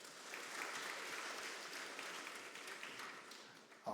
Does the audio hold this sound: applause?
yes